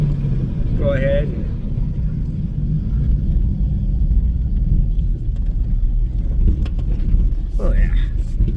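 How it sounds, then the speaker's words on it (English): Steady low exhaust and engine rumble from a Ford Ranger pickup truck driving after a fuel pump replacement, continuous throughout, with a couple of brief voices over it. "So I don't know if you can hear the exhaust, but it sounds good."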